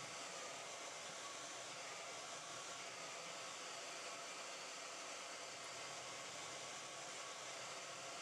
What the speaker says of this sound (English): you can put that hairdryer on warm